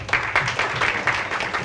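Audience applause for graduates at a ceremony: a continuous crowd of hands clapping, moderately loud, with slightly pulsing swells and a low hum underneath.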